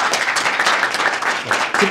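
Seated forum audience clapping for the speakers at the close of an AI leaders event, a moderate burst of hand claps with audible individual strikes, fairly close and without talk.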